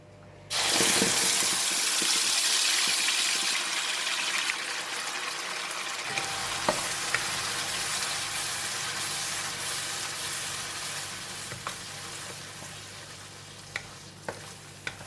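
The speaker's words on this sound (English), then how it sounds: "And we're going to fry it until the sambal is cooked and release a very nice fragrance." Loud sizzling starts abruptly as blended chili paste for sambal hits hot oil, then continues as a steady crackling fry with occasional clicks and scrapes.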